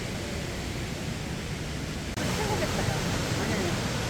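Sambuyeon waterfall in Cheorwon, a three-tiered falls, roars as a dense, steady rush of falling water that fills the whole clip and grows slightly louder partway through, with no voices over it.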